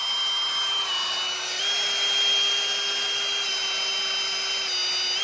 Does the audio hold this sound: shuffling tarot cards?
no